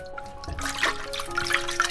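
Pickled vegetables, red pepper and tomatoes are washed under running water, with a close, continuous splash and trickle that swells partway through a brief moment.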